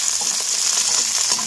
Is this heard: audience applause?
no